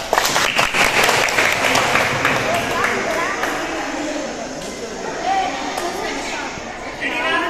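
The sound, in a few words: children clapping hands in a game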